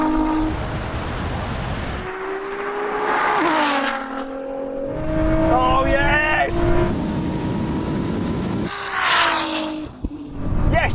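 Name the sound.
Ferrari SF90 and 1000hp Nissan GT-R drag racing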